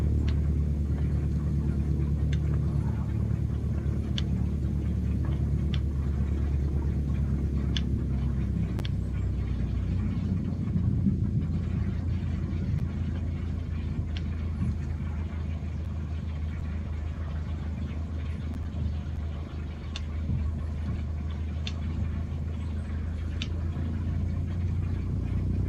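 A Cessna 152 engine runs at taxi power near 1000 RPM, a steady muffled propeller drone heard from inside the cabin for the whole stretch, with faint clicks and ticks scattered over it.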